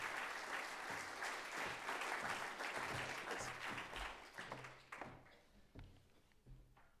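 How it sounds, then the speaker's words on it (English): Audience applause fills a conference hall as panelists come onto the stage for a talk on China's digital economy, a steady dense clapping that thins out and tapers into scattered claps and a few footsteps near the end. "Please give them a nice round of applause as they join me on stage"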